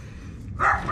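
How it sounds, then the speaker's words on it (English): A single short bark from a dog hanging around a plumber's van during a burst roof pipe repair job in Perth, fairly close and loud, preceded by quieter background noise. "He's gonna bark at me the whole time, isn't he?"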